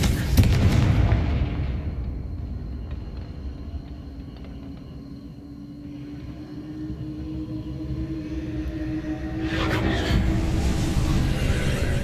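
A Confringo fire blast spell from Hogwarts Legacy erupts in a loud, booming burst, then fades into a long, low rumbling decay before a second burst of crackling noise swells near the end.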